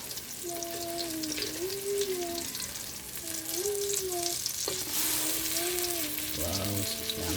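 A banana blossom omelette with corned beef and egg crisp-fries in hot oil, a steady, close, unbroken sizzle that runs the whole time, with faint tonal sounds drifting in the background.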